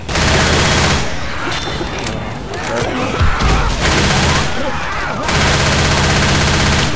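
Sustained rapid gunfire from Left 4 Dead 2, loud bursts of automatic weapons and shotgun blasts nearly continuous throughout, with a short dip in the middle and voices calling out faintly beneath.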